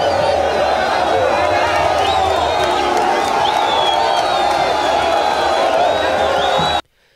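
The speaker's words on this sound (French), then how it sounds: "un bain de foule a été offert au couple présidentiel au sortir des installations aéroportuaires" A large outdoor crowd cheers, whoops and claps for Congolese President Félix Tshisekedi and his wife arriving at Lubumbashi airport, a dense, loud, continuous roar with whistles, ending abruptly.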